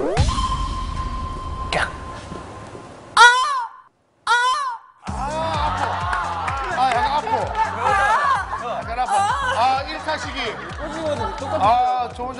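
Person on a TV variety show imitating a crow's caw with two short, sharp vocal cries, followed by lively studio chatter and laughter.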